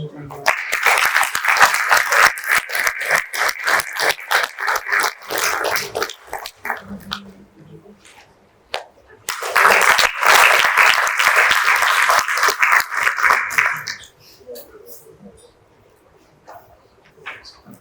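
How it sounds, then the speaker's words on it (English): Two bursts of audience applause break out at a leadership event with the ICAI President and Vice President, with a hush between them and quieter scattered sounds afterward. "Warm round of applause, please."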